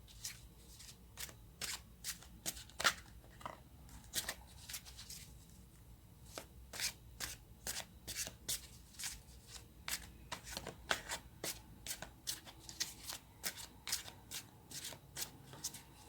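Tarot cards being shuffled by hand during a reading, a long run of crisp riffling bursts and soft flicks repeating in quick irregular rhythm, close up, with no speech over it.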